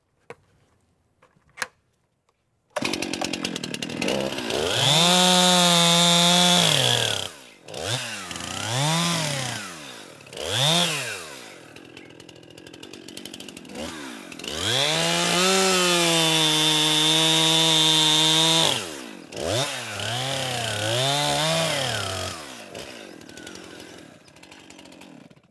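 A chainsaw cuts sapwood strips from beside the hinge while a tree is being felled, revving in long loud bursts with the engine note dipping under load, separated by brief idle pauses, close by with no talk.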